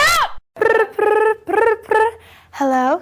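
A Big Brother 9 novelty phone ringtone made of a voice plays as a series of short, loud, pitched vocal bursts with brief gaps between them, close and clear.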